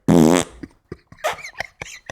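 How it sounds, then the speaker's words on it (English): A loud, wet, rasping fart bursts out at the start, followed by several short, quieter sputtering pops trailing off, close and with no talk. "the first couple of farts are quite tame, and then the third one is the big one"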